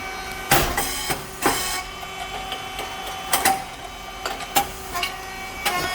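A SYP4509 rice cake machine with coated moulds runs close by, giving a repeating pattern of sharp mechanical clacks and bangs, roughly one each second, over a steady ringing machine hum.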